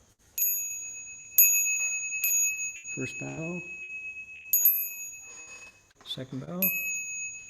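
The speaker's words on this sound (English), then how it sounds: "I'm going to ring the bell 3 times" A Buddhist bell rings during bows, clear bright metallic strikes that each sustain and ring out, heard several times in a row, with a voice speaking between the strikes.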